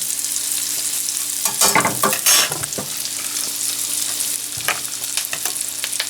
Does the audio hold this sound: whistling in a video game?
no